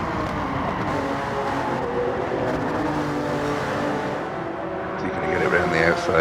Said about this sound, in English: that car of DP's is fairly loud